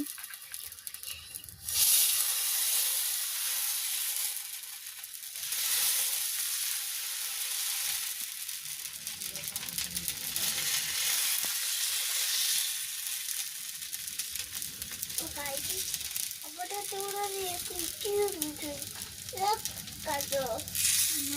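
Dosa batter frying in oil on a pan in a village kitchen, a steady bright sizzle running throughout, with a voice speaking over it near the end.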